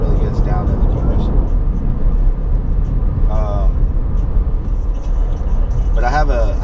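Cabin of a Scion FR-S on the move, filled with a loud, steady engine and road rumble that never lets up, while someone talks briefly over the din.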